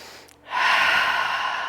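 A single long breathy exhale during a lower-body strength exercise, preceded by a short intake, close and fairly loud, airy and sustained for over a second.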